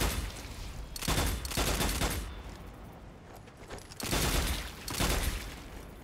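Bursts of video game gunfire blasting a swarm of scarabs in Strange Brigade, several loud volleys in quick succession with short pauses between them.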